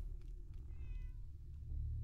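A cat meows once, faint and a little drawn out, inside the Fallout 4 video game, over a steady low background hum with no talking.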